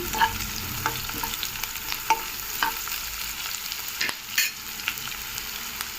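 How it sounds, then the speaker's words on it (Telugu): Onions frying in hot oil and being stirred for a spicy mutton fry, with a steady sizzle broken by scrapes and clinks of the spoon against the pan, close and continuous. "ఆనియన్స్ కొంచెం ఫ్రై అవ్వాలి."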